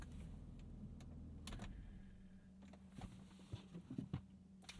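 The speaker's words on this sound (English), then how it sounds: "Listen to the early 2000s dashboard make all sorts of weird noises as you shut it off." Interior of a 364,000-mile early-2000s BMW E46 323i manual sedan, where the dashboard gives off faint clicks, ticks and soft whirring as the car shuts off, over a quiet low hum and a few small taps.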